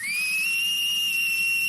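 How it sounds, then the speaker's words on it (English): A loud, piercing human whistle held as one steady high tone, sliding up briefly at the start and then sustained alone for under two seconds. "she can whistle so loud my ears hurt"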